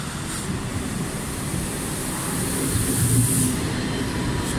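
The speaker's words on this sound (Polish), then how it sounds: "Wjeżdża pociąg EIP relacji Gliwice Gdynia Główna." An EIP express train on the Gliwice–Gdynia Główna route pulls into a station in Silesia with a steady, loud rumble of wheels and rail noise and a faint squeal building near the end.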